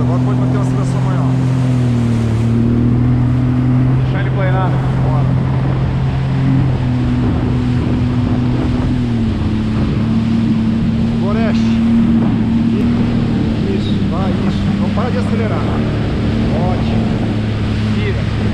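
A motorboat on the open sea holds a steady, loud engine drone as it picks up speed, with wind and splashing water around it and occasional faint voices.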